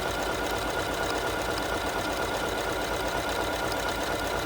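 An Elna 680+ sewing machine stitches a buttonhole, a steady rapid mechanical whirr and clatter that runs continuously at an even loud level with no talk over it.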